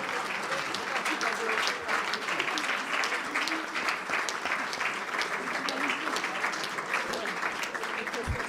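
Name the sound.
audience applause in tribute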